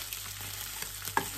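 Food fries in a pan of hot oil until golden and crispy, a steady close sizzle and crackle with a small clatter near the end, no voices.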